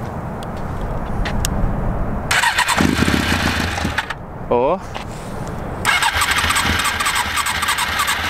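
An old 1993 motorcycle engine cranks and catches, with loud rough bursts of running engine noise broken by a short pause, while people talk nearby.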